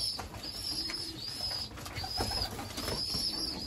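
Pigeons in a loft making soft, low coos while a cockbird feeds his young, with scattered chirps and shuffling close by at a gentle, steady level.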